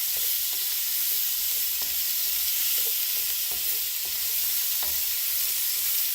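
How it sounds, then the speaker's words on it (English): Chopped onions stir-frying in basil butter, a steady close-up sizzle and hiss with occasional light clicks from stirring, no voices. "Stir fry the onions a little bit."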